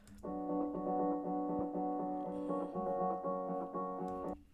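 A dull, muffled sustained guitar chord drones steadily, low-pass filtered around 800 Hz so the highs are rolled off, sounding subdued and muddy, alone with no talking.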